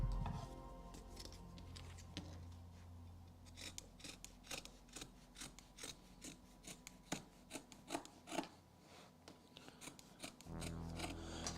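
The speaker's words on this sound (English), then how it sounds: "while I'm trimming this up" Hand trimming with scissors during an inventory session: repeated soft snips and rasping cuts, some sharper than others, close by over a steady low hum, with no talking.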